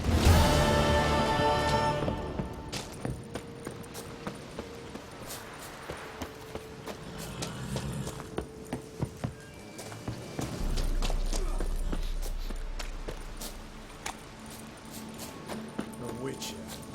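Rhythmic clip-clop of horse hooves at a steady gallop in the video game Witcher 3, continuing throughout, with low rumbling and other game sounds underneath.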